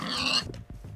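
A pig in the Minecraft video game gives a short grunting oink, a close game sound of about one second that breaks into a few low snorts.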